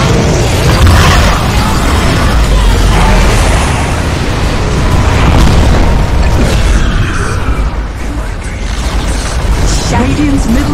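A tower is destroyed in a Dota 2 match, with loud booming explosions and crumbling bursts amid dense battle noise and game effects, and a voice speaking over it.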